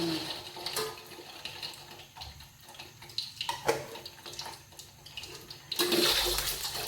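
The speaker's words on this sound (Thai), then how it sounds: "น้ำมันร้อนแล้วเนี่ย ตานี้เราก็มาทอดไข่เย่มากันค่ะ" Century eggs deep-frying in hot oil for a crispy holy-basil stir-fry give a steady, hissing sizzle with scattered crackles. A louder, brighter burst of spattering comes near the end.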